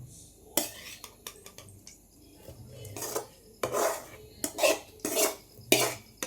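Sautéed onions go into buttermilk adai batter and get stirred with a spoon, quiet scraping and repeated clinks of metal against a bowl in an uneven rhythm, close and soft.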